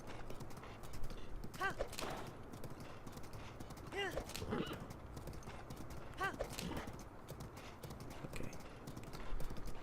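Horse galloping in Zelda: Breath of the Wild, a rapid rolling clip-clop of hooves running continuously, with a few brief whinny-like calls rising above it.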